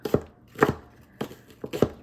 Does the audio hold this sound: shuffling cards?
no